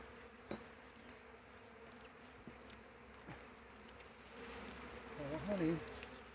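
Bees buzzing around a hive with swarms nearby, a soft continuous outdoor drone with a few louder close fly-bys and a brief voice near the end.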